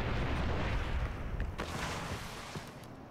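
A gunshot burst with rumbling booms comes from the video game Far Cry 4, loud and broad at first and then fading into a lingering rumble over a few seconds.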